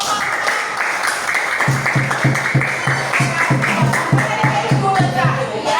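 A school class in Tanjungpinang applauds a student group after a poster presentation on forests and wildlife: steady, moderate clapping with a regular pulsing beat, heard over a constant background murmur.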